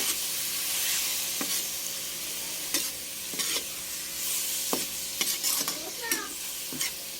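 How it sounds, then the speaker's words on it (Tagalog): Squid sautés with tomatoes and seasonings in a hot pan, a steady hissing sizzle punctuated by several sharp spatula clacks and scrapes as it is stirred. "Yan, ginisa-gisa ko lang siyang konti sa mga rekado."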